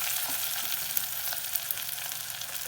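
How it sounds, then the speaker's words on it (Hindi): Onion and potato sizzle and fry in a pan over medium heat, a steady close crackle with occasional sharper pops from stirring, with no talk. "तो देखियो प्याज आलू के खूब बढ़िया से भूज दिलिए हाँ।"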